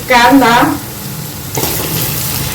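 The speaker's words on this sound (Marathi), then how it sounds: "कांदा सुद्धा छान तळून घेऊया" Chopped onion goes into a hot pan with already-fried garlic and starts to sizzle, a soft steady frying hiss under someone speaking at the start.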